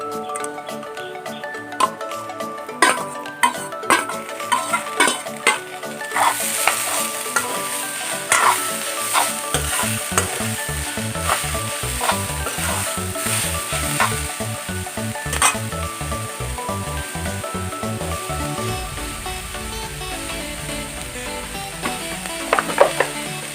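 Chopped banana stem (kol posola) sizzles and crackles in a hot oil pan, stirred with a spatula that scrapes and clinks against the metal in irregular strokes; a steady loud frying hiss continues throughout, close up, with no talk.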